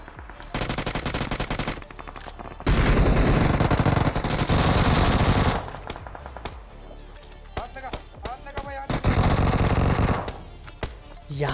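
Rapid automatic gunfire from a battle royale shooter game comes in three loud, sustained bursts separated by shorter gaps, with faint game effects between them.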